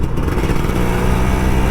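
Close and loud, the engine of an older Kawasaki Ninja RR 150 motorcycle drones and revs steadily throughout with a buzzing tone. It rides on a quiet street in Puri after rain, and no one speaks.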